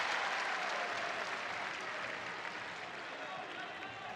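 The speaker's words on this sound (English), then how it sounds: "Crowd gives him some love." Crowd applause and cheering fill the arena at an NCAA college wrestling match between Iowa State and Nebraska Kearney, a steady dense roar of clapping that eases slightly toward the end, with no voice standing out.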